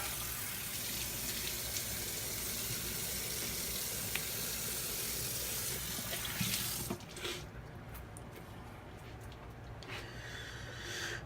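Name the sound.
running tap water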